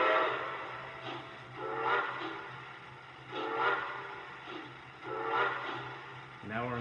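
Two short whistle blasts from a 3rd Rail PRR M1b model locomotive, a few seconds apart, over a steady low running hum, each with a bright tonal burst, fairly close and moderately loud.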